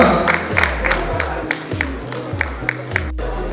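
Audience applause at a cinema awards ceremony, crisp claps over a booming music beat, with a voice talking over it.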